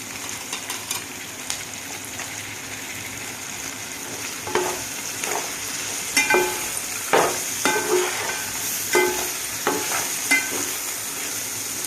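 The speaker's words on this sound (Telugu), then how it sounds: "పచ్చివాసన పోయేలా వేసుకుందండి అల్ల వెల్లుల్లి పేస్ట్ ఇవన్నీ బాగా వేగినాయి కదండి" Ginger garlic paste frying in a pan for vegetable biryani, a steady sizzle underneath with repeated scraping strokes of a spoon stirring at a regular pace, close and fairly clear.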